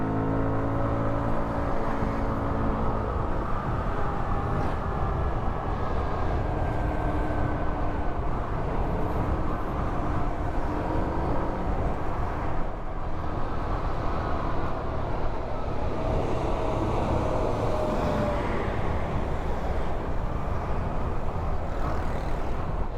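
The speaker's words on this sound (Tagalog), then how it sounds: "Traffic sa Cannon Road." Road traffic on Kennon Road near Lion's Head in the Cordillera mountains, a loud continuous roar of passing engines and tyre noise with rising and falling vehicle drones, no talking.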